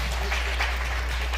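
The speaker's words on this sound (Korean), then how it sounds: "큰 박수 부탁드립니다" An audience at a Songpa youth forum applauds as a dense, steady wash of many hands clapping together, moderately loud over a constant low hum.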